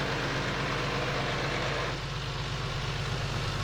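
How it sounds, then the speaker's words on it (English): A rough, unpleasant-sounding engine idles steadily with a low droning rumble, continuous and fairly close, with no talk over it. "That is not the most pleasant sounding of engines"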